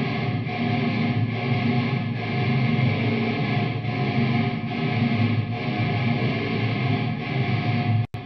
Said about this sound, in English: this is how the ambient mics sound with that reverb on now